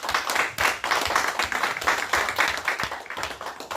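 Lecture audience clapping briefly during a talk on humanities and innovation, a moderate rattle of many hands at medium distance that stays fairly even throughout.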